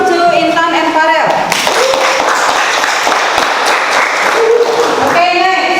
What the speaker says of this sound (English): Give applause to Intan and Farel.